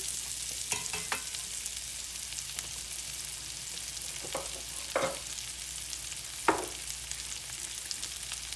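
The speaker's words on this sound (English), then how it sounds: "I'm going to add the whole thing to it there. We're going to let that start cooking" A whole cut white onion starts cooking in a pan, giving a faint, steady sizzle with a few soft clinks and stirring scrapes spread through.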